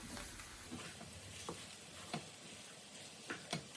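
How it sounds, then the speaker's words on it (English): Rice being stirred and broken up in a pan with a soft steady sizzle and intermittent scraping clicks of the utensil, fairly quiet with no voices. "Break up the clumps of rice"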